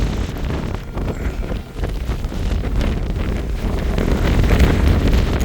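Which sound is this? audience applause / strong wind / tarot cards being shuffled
strong wind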